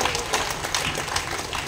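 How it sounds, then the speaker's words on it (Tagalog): Church audience applauding during a sermon, a steady patter of many hands clapping at a moderate distance, continuous through the short stretch. "Halata po yung palakpak mo."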